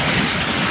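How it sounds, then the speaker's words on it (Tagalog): Hail falls during a storm as a dense, steady hiss of pellets striking surfaces, loud and close, with no gaps or voices over the short stretch. "Ayan, puro yelo."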